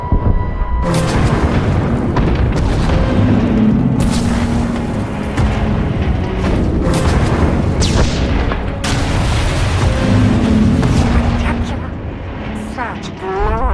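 Failsafe explosions in the Star Wars: The Old Republic video game, a long, loud run of deep booms and blasts rolling one into another with rumbling bursts, under game voices and music.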